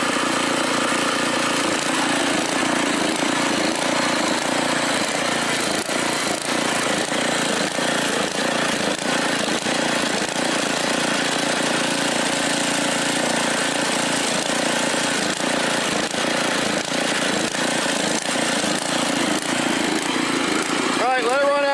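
A Briggs & Stratton 5 hp OHV engine on a Mastercraft Lawn Chief rototiller runs steadily and loudly close by, with a rough, pulsing drone throughout. People talk faintly underneath.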